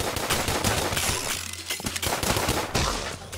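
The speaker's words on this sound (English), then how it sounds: "the new cowboy outfit, which has a cap gun that fires as fast as you can pull the trigger" Rapid cap gun fire from a cowboy outfit in a roguelike video game, a dense stream of sharp cracks with brief pauses, loud and close throughout.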